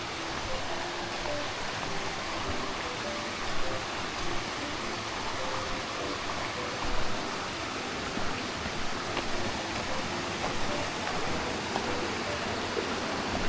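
Mountain valley stream at Sanasa valley in Yangpyeong, Gyeonggi-do, flowing in a steady, dense rush of water close by, broadband and unbroken with small surges throughout.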